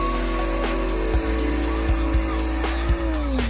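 BMW 335i with bolt-ons on E40 fuel, tracked hard, driving with short tire squeals and skids over a steady engine note, several brief chirps close by.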